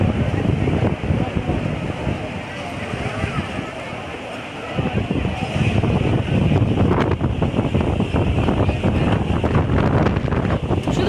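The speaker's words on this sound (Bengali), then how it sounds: "কি হাওয়া কি হাওয়া শুধু" Strong wind buffets the microphone in a steady roar with gusty surges at Haridwar, with people talking faintly underneath.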